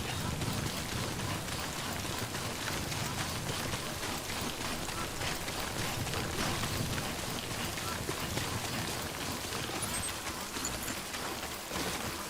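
Steady rain falls in the video game Death Stranding, a dense, even hiss of drops that continues for the whole stretch at a moderate level with no breaks.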